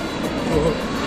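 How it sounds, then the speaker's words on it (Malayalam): Airplane noise in Dubai: a loud, steady broadband roar that fills the whole short moment without a break. "വിമാനത്തിൻ്റെ സൗണ്ടോട് നിങ്ങൾക്ക് എന്തെങ്കിലും കേൾക്കുന്നുണ്ടോ എനിക്കറിയില്ല"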